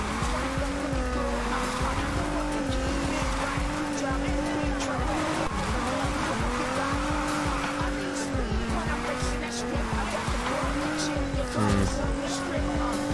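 A Polestar 1 drifts in the racing game Need for Speed Heat, its engine droning with wavering pitch and tires squealing through long slides, loud and continuous, while someone talks over it.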